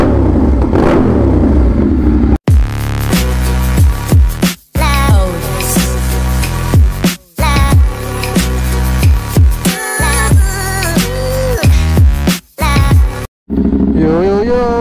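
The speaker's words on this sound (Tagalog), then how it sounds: "nagpalit ulit tayo ng exhaust. Yung medyo mas maingay. Ayan o, Shorty SC. Para mas bulahaw." A CFMoto NK450 motorcycle fitted with a short SC Project copy exhaust revs hard up close, loud throttle blips rising and falling in repeated bursts, with brief cut-offs between revs.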